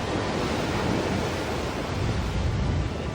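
Strong sea waves churn around a sinking tugboat off Zambales, a loud, unbroken roar of surf mixed with wind buffeting the microphone, with no voices.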